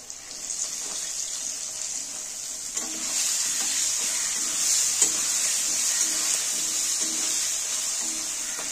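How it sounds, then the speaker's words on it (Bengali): Hot oil hisses steadily in a pan as green chilies and potatoes fry for cabbage and fish-head ghonto, a close, even sizzle that grows slightly louder midway, with occasional soft stirring scrapes. "এটা এবার একটু ভালো করে ভেজে নিয়ে তারপর আমি মশলাগুলো দেব। এবার দেবো চেরা কাঁচা লঙ্কা,"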